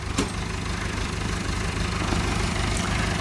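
A small scaled tractor engine idles steadily close by, a low, even rhythmic chugging that holds at a constant level with no talk over it.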